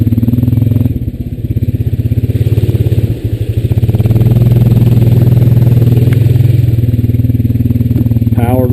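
A Honda Rancher 420 ATV runs along a swampy hunting trail, its engine a loud close steady thrum with brief dips as the throttle eases, and a voice speaks over it partway through.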